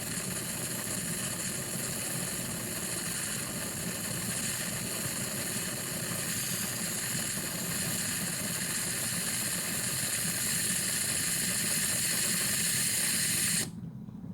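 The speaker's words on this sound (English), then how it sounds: "it's starting to blow steam out of there" An electric pressure cooker vents steam from its valve in a loud, steady hiss that runs for about thirteen seconds without a break, then cuts off abruptly.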